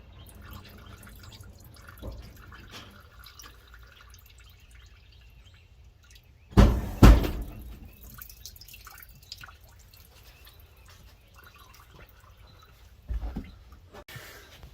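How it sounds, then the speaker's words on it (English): Water drips and splashes from the water pump of a 1988 Mercruiser 5.7L boat engine on a trailer during winterization: a couple of close, brief spatters near the middle and again near the end, with quiet in between. "you should see some water come out of this"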